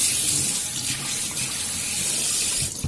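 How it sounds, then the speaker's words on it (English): Tap water runs in a steady, loud gush into a sink while rice is rinsed, a continuous broadband splashing that fills the whole stretch and eases off at the very end. "then just give it a quick rinse under the tap"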